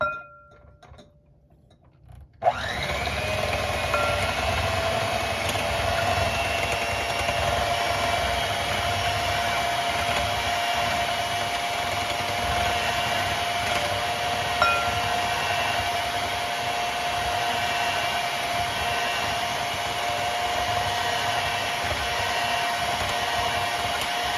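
An electric mixer starts abruptly and then runs as a steady, loud whirring drone while mixing sugar into apple cake batter, continuing alone without a break.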